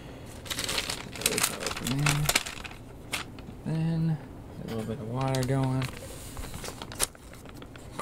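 A plastic food pouch from a Sopacko low-sodium cheese tortellini MRE crinkles and crumples, sounding as repeated bursts of crackling handling while a voice talks between and over them.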